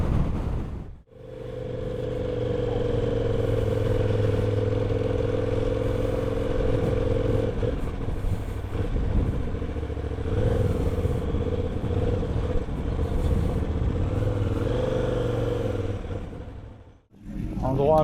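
A motorcycle accelerates along a road on the Isle of Man near the Bungalow during a Tourist Trophy road trip, its engine tone climbing steadily through gears then fading as it slows, heard close from the rider's position with speech mixed in.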